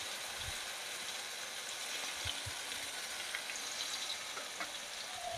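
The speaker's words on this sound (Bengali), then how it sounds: "আরো কিছুক্ষণ ভালো করে লাল করে ভেজে নেব" Potatoes fry with turmeric and salt in a pan in a village kitchen, giving a steady, fairly faint sizzle with a few small pops and clicks and no voices.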